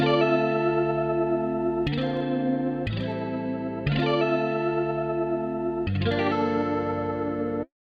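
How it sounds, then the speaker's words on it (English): A looping electronic beat with a sweeping, swirling flanger effect, sustained tones changing every second or so, loud and steady. "The vibe comes in when I add the flanger effect here."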